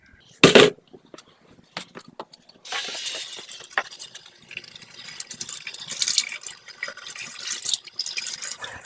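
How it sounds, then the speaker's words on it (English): Water rinsing a metal part from a Tennant T5 floor scrubber, heard as running and splashing water with light metallic clinks and knocks; a sharp clatter comes early, then uneven spraying. "I also will try and rinse it out with water."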